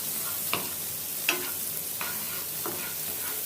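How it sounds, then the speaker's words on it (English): Chopped onions sweating gently in a pan for Govindbhog rice arancini, a steady soft sizzle close by with a few sharp scraping stirs at irregular intervals, no talking. "Here we are not going to brown the onion, we are just going to sweat the onions."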